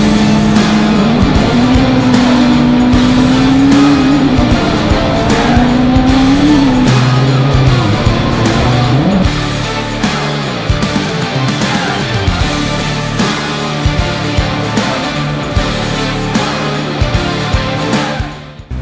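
A rallycross car laps a track at Laitse Rallypark in loud, close engine drone, revving up and down with gear changes and hard acceleration, continuous for the whole stretch.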